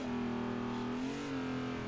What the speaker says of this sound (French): je mets des petits coups d'accélérateur